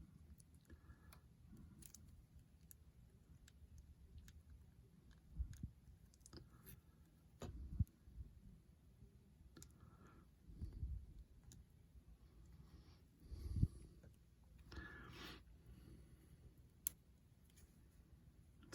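Plastic visor of a 6-inch GI Joe Classified Series Alley Viper action figure being popped onto the head, giving faint small clicks and scattered handling taps in a quiet room.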